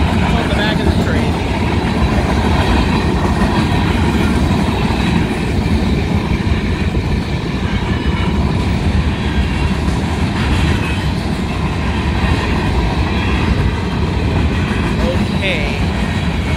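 Union Pacific manifest freight train with a GP60 and DPUs rolls northbound past a Joiner Road railroad crossing, a loud, steady roar and rumble of wheels and cars passing close throughout.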